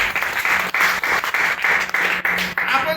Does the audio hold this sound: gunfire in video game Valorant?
no